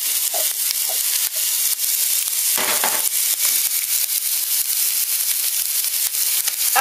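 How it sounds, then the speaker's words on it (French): Onion frying in hot olive oil in a pan for lentils, a loud, dense, crackling sizzle that runs steadily throughout, with occasional stirring scrapes. "je vais faire d'abord revenir un petit peu mon oignon"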